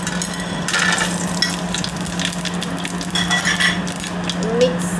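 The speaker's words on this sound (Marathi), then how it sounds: "तुपाची फोडणी" Whole cumin, black cardamom and green cardamom sizzle steadily in hot ghee as a tempering for boiling biryani rice, a close, continuous frying crackle with faint stirring and a few light utensil clinks.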